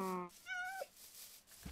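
Cat in the video game Minecraft meowing up close, a couple of short rising-and-falling meows in quick succession, clear and alone.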